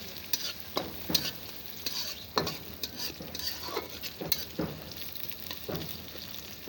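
Dried red chilies frying in oil in a pan, heard as a quiet crackling sizzle with frequent scraping and clinking from a spatula stirring the pan, and no one talking.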